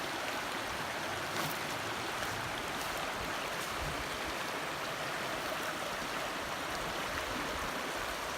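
A creek's water rushes steadily and loudly at a crossing point, a constant close broadband wash with no speech over it.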